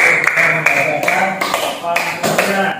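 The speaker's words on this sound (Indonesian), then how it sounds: "Nah, tepuk tangan." A classroom of young pupils claps hands together in a few rhythmic bursts, fairly close and loud, with voices mixed in.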